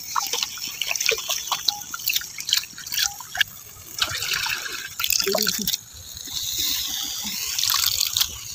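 Flattened rice (chuda) being rinsed in water by hand for a village clay-pot cooking dish, with intermittent splashing, dripping and trickling close by, and a voice speaking now and then over the water sounds.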